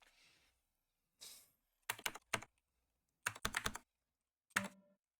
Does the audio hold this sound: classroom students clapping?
no